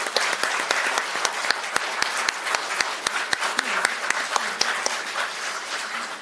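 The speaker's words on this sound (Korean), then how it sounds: "두 분께 큰 박수 보내주시기 바랍니다." Applause at a political party meeting to choose a floor leader, honoring two candidates: brisk, fairly dense clapping with distinct sharp individual claps standing out, steady for about six seconds.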